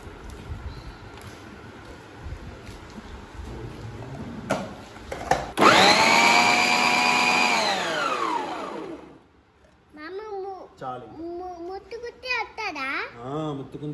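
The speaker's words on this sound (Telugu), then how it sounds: "ఇప్పుడు ఆనియన్స్ మనం మిక్స్ పెట్టుకుందాం." A mixer grinder chops onions in a loud, close whirring burst of about four seconds that spins down to silence, with a voice and other talk around it.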